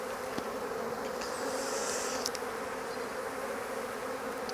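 Honey bees hum steadily in an open hive during a colony inspection, a soft continuous drone with occasional closer buzzes passing by, no talk.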